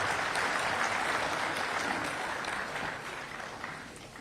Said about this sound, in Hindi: बहुत जोरदार ताली बजा के स्वागत करें।